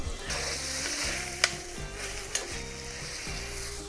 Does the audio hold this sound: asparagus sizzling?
yes